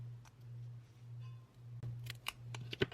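Scissors cut paper for a B6 ring planner: a few quick, crisp snips close by near the end, over a steady low hum in an otherwise quiet room.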